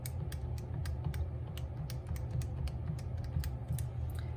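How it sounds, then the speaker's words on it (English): Keys clatter on a computer keyboard as a number is entered, giving quick soft irregular clicks over a steady low background hum. "Let me type that in."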